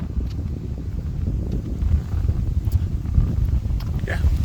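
Breezy outdoor wind on a mild Sunday afternoon in Lawrence, Kansas, a steady low rumbling buffet of wind noise across the microphone, continuous and fairly loud throughout with slight gusting swells.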